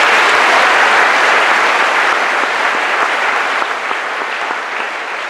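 A large crowd applauds steadily at a middle school promotion ceremony, a dense wash of clapping that holds strong and fades slightly toward the end.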